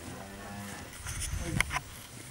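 Cattle moo on a farm in Poland, one low drawn-out moo at moderate distance, with faint background farm sounds and a voice speaking softly nearby.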